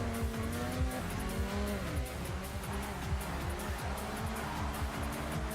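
A car drifts in the racing game Forza Horizon during an RX7 tournament, its tires squealing in repeated sliding wails over a continuous engine drone, loud and close with no voices.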